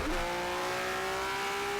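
Race car engine in the rFactor racing game, a sharp throttle blip that settles into a sustained steady engine drone, close and fairly loud with no talk over it.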